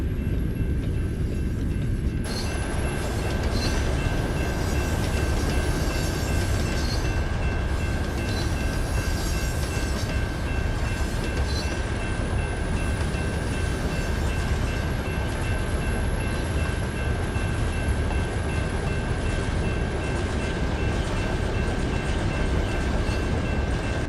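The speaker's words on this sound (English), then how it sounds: "the white cars usually means end of the train" Freight train rolling past in American Truck Simulator, a loud continuous rumble of wagons with a steady high tone that holds throughout, with no voices over it.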